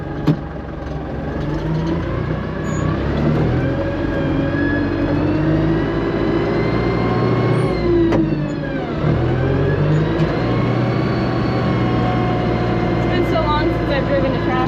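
Truck engine driving on a farm, a continuous loud low rumble with rising and falling pitch as it accelerates and shifts, steady throughout with a brief dip midway.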